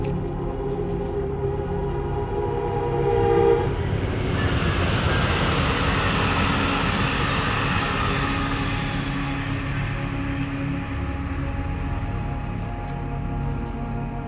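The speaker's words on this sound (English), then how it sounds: "Train coming." A train approaches and passes close by on a rail line beside a trail, its broad rumble swelling at about four seconds and holding loud and steady before easing slightly toward the end, with no talking.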